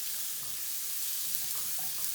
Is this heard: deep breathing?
no